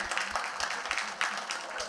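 A comedy club audience breaks into a short burst of scattered applause and clapping, moderately loud, with crowd murmur and a voice mixed underneath.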